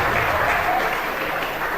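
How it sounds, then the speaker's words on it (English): Audience at a Christian event in Dallas applauds volunteers, a dense, steady wash of clapping filling the whole stretch at close, loud level with no clear talk. "Give the volunteers a round of applause."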